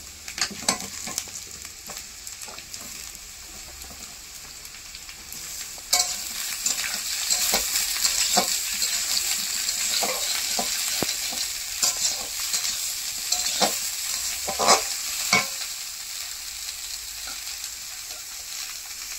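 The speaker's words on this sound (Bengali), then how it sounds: "এবারে বেগুনগুলো এই আলুর মধ্যে দিয়ে ভেজে নেব।" Eggplant and potatoes frying in hot oil in a pan, a steady close sizzle with repeated scraping stirs that grows louder partway through as the eggplant goes in, heard alone without talk.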